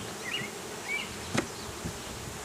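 Honeybees buzz steadily around an open beehive during an inspection, a close, continuous drone with brief rising swells and a sharp knock partway through.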